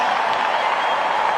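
A crowd at The Big Freeze charity event for Fight MND applauds for Eddie Betts: dense, steady clapping and cheering that fills the moment, loud and unbroken.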